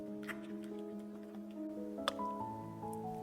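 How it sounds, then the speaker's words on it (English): Hot strawberry puree, heavy cream and lemon juice heated almost to a boil pour over chocolate for a ganache, giving soft wet drips and squishy trickles beneath a steady background tone, up close with no talking. "I then heat strawberry puree, heavy cream and a bit of lemon juice almost to a boil before pouring it over the chocolate."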